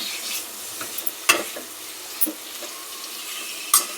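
Tomatoes with salt cook in a pan with a continuous soft sizzle, while a spoon stirs them and taps the pan now and then.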